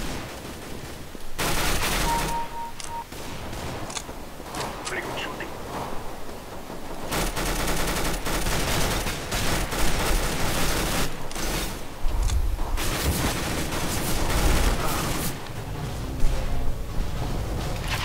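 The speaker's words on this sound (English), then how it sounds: "Are you just like opening fire with that M4?" Continuous rifle gunfire in Counter-Strike: Global Offensive, an M4 firing in dense bursts with overlapping shots and mechanical clatter, loud and steady throughout with brief lulls.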